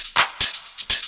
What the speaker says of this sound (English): And then we've got the drum group again, got a drum bus on it, sounds like this.